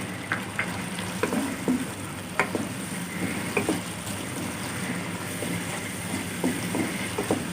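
Manchurian sauce thickened with cornflour water and black pepper is stirred in a pan, with clicking, scraping spoon strokes over a soft, continuous bubbling sizzle.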